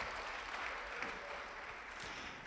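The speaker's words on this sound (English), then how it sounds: "Give her a round of applause" Congregation applause in a church sanctuary for a singer, a steady, faint wash of many hands clapping at a distance, continuous throughout.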